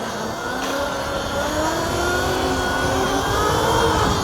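An Isinwheel Monster Pro electric bike accelerates hard as the rider tries for a wheelie, its motor a steady rising whine over constant road and wind rush, fairly loud and close, with no talk.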